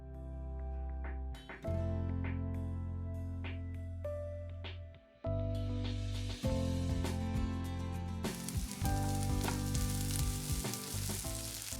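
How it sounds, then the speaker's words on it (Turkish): Chopped vegetables frying in a little olive oil in a pan, a steady close sizzle that drops out briefly and resumes, growing brighter and louder toward the end as the pieces are stirred, under light background music. "Şimdi az bir zeytinyağı döktüğümüz tavamıza az önce doğramış olduğumuz malzemelerimizi alıyoruz."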